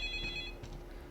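A telephone rings inside the Roblox horror game Specter, a short electronic ring with a bright repeating tone over a low background hum.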